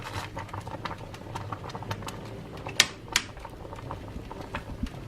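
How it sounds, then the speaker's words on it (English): Spelt flake porridge with coconut and almond flakes bubbles as it is stirred, with steady soft popping and pattering and two sharper clicks of the spoon against the pot. "continue stirring as the mixture boils"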